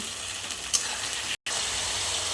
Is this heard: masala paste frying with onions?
yes